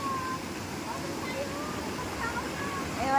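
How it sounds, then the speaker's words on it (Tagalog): River water flows and splashes steadily over a shallow riverbed at a riverside spot with cottages, a continuous broadband rush from start to end with faint voices in the background. "Yan, dito na tayo sa ilog, oh."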